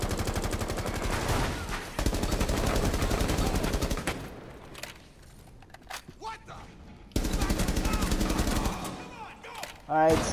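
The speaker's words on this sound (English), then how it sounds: "Stop shooting at me." Video-game gunfire in Rainbow Six Siege rattles in dense automatic bursts, two long volleys with scattered single shots between, close and loud, with someone talking briefly near the end.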